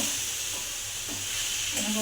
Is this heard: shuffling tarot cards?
no